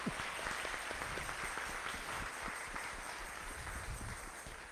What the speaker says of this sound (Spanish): Eso, en el aplauso.